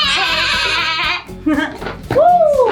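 A loud, close sheep bleat rings out, followed by a second wavering bleat after a short pause, with some rustling in between.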